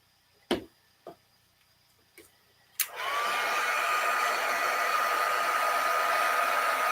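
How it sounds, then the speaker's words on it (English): A few sharp clicks and taps come first, then a heat tool switches on and blows hot air over a paper card in a steady, close, loud whoosh that continues to the end. "I'm going to now use the heat tool."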